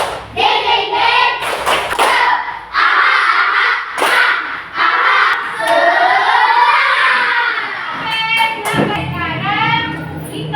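A class of schoolchildren stands and performs a spirit clap chant, with loud shouted voices and a few sharp claps in a close, lively indoor mix.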